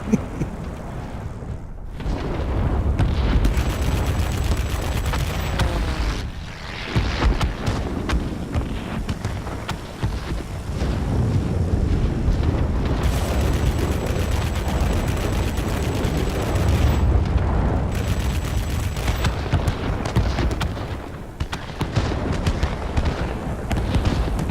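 An M69 gun on an XF5U fighter fires in World of Warplanes, a dense, continuous rattle of rapid shots with booming impacts layered over steady engine roar, loud for most of the stretch with a few brief lulls.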